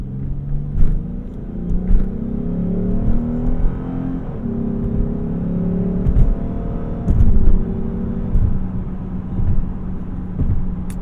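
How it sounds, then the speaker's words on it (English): A 2015 Lexus GS350 F Sport accelerating hard from inside the cabin, its engine drone climbing in pitch, dropping at each gear shift and rising again in a smooth, continuous pull. "I felt like it shifted at 6, went right down, it pulls the same all the way through."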